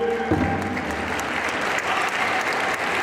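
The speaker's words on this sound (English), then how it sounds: "let's have a big round of applause, ladies and gentlemen" A crowd applauds at the Mall of America pow wow in 2016, a dense, steady round of clapping close and loud throughout, with no talk.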